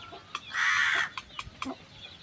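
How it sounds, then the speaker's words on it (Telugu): Chickens cluck nearby as grain is scattered for them, with small chicks among them, one longer loud squawk in the middle surrounded by short scattered clucks over quiet background. "సంతోష్ బయటికి వచ్చారు, కోళ్ళు అన్నీ వరకొస్తాయి కదా."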